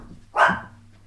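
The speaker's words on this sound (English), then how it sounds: "Okay, that was the dog." A small dog gives a single sharp bark, close and fairly loud, indoors with quiet around it.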